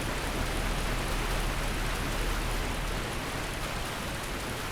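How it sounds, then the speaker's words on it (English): A roaring waterfall at Sen's Fortress in Dark Souls fills the scene with loud, dense, unbroken rushing noise that stays steady throughout. "that waterfall is loud"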